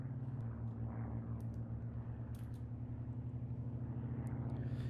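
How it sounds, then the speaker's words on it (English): Aircraft engines drone overhead in a Gates of Hell battle game, a steady low propeller rumble with a pulsing hum, continuous and moderately loud, with faint distant crackles of battle behind it and no speech. "You hear those airplanes overhead? They're loud as hell."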